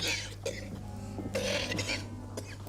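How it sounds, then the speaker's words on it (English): A man's harsh cough, a few rough bursts spread across a short span, close and moderately loud, with low hum underneath. "I would see a doctor about that cough."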